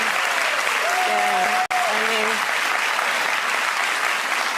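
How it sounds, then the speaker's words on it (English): A studio audience at a talk show applauds loudly and continuously, with dense clapping under a faint voice speaking briefly over it, cut by a momentary dropout midway. "this audience claps for that"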